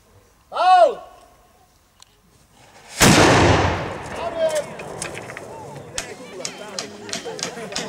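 A single loud cannon blast booms at a battle reenactment commemorating the 600th anniversary of the battle at Babí hory, following a short shouted call, then crackling echoes and crowd murmur trail off.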